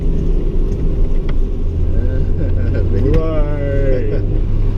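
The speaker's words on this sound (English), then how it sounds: "That was actually the first time I hit VTEC." A Honda engine with a Mugen shift knob revs up hard through its VTEC crossover, a rising engine note building over steady road rumble inside the car, with voices talking over it.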